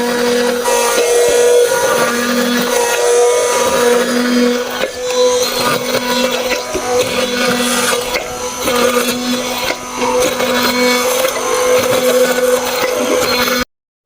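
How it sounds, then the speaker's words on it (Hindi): An electric grinder blends shawarma red sauce made with soy sauce, tomato ketchup and salt, a loud steady whirring hum with a rattling, churning edge that runs continuously before cutting off abruptly. "अब इसको ग्राइंड कर लेते हैं।"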